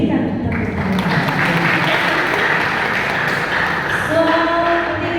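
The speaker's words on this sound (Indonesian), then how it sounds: "Kita berikan tepuk tangan." Youth group at a Bible quiz contest clapping, a moderate crowd applause with voices and background chatter mixed in, plus a tonal sound near the end.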